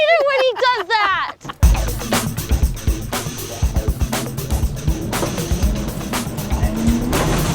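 A Ford F150 prerunner truck tears around a racetrack, its engine roaring loud and close with sharp rhythmic surges and bursts of tire noise, after a short chirping squeal at the start.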